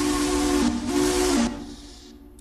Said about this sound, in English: Some of the whistles aren't very good.